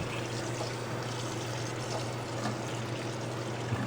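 Cooked rotini and macaroni pasta being rinsed: a steady, dense rush of running water pours continuously at an even level, close by and unbroken, without speech.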